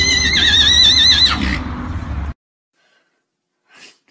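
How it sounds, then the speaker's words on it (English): A horse in a video game gives one loud, close neigh with a shaky whinny that fades into a snort, followed by silence and a faint tail of noise. "I love this horse"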